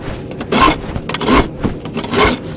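A file rasps over the sharp edges of a forged metal feather in three slow, scraping strokes, close up and fairly loud, with short pauses between passes and no voices.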